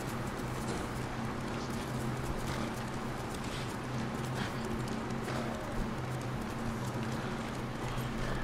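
Horse hooves clip-clop at a steady trot in the video game Ghost of Tsushima, a continuous rhythmic patter over a dense game soundscape with no talk.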